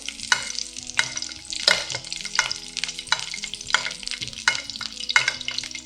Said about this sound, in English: So this basting process will cook the top part and the sides